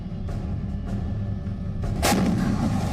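K9 Vajra self-propelled artillery guns fire several loud, booming shots spread irregularly over a few seconds, each a sharp blast over a rumbling background.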